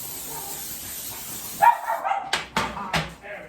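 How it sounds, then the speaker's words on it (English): A pet dog barks in short, sharp bursts, several in quick succession, close by in a home kitchen while chocolate chip cookies are being made, following a stretch of steady hissing background noise. "Again, my dog's going to go crazy."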